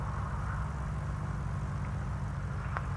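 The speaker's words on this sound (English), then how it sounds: "Okay, so these engines are running." Twin piston engines of a Piper PA-44 Seminole run steadily on the ground after start-up, a constant low droning rumble heard from inside the cockpit with a brief faint click near the end.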